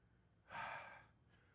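A single deep breath out through the nose and mouth closes a workout breathing exercise. It is a soft, airy rush of about half a second, close and quiet, with no voice over it.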